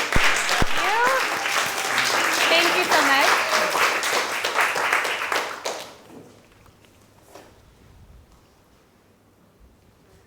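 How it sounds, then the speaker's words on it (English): An audience at a talk on Kauai welcomes a healthy-food speaker with loud applause for several seconds, a voice briefly speaking over it, before the clapping abruptly dies away into near quiet with a few stray claps. "So big round of applause for Hollan."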